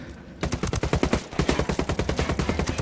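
Rapid, loud bursts of automatic gunfire rattle in close succession in the video game Ghost Recon Wildlands, two sustained strings of shots with a brief break between them.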